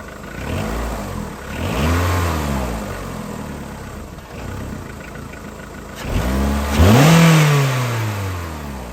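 A VW Polo 1.4 engine revved at full throttle, rising and falling in repeated sweeps before a final loud climb, heard close and alone with no talking.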